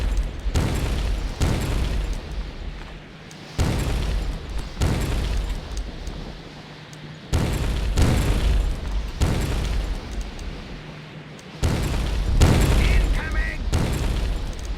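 Repeated booming grenade explosions in the fantasy strategy game Myth: The Wolf Age arrive as several loud, heavy bursts roughly every two to three seconds, with quieter battle noise between them.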